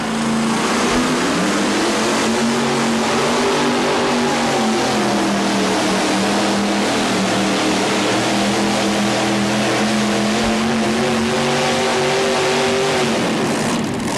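A pulling tractor or truck engine roars at a 1987 tractor and truck pull in Louisville, Kentucky, loud and sustained, its pitch climbing and holding as the RPM rise for about fourteen seconds.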